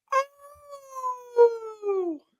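A man imitates a coyote desert dog howl with his voice, one sustained wavering howl that starts with a yip and slides downward, alone and close.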